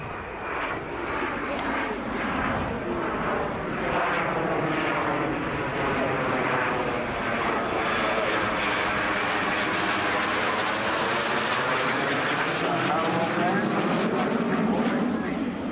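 A Strikemaster jet flying at the Southport Air Show, its engine a steady, loud roar with a slowly sweeping pitch as it passes, sustained for the whole stretch.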